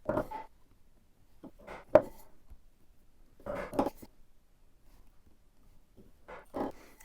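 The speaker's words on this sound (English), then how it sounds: "I've got a 1/2 inch chisel, so I can mark the end of this just by giving a good tap" A 1/2 inch chisel gets a few sharp taps to mark the end of a piece of wood for joinery on a planter box, heard as isolated knocks spread across quiet with some faint handling noise.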